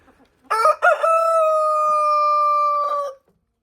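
A backyard rooster in a snowy yard lets out one loud, close, drawn-out crow lasting a few seconds, preceded by a couple of short clucks, with silence around it.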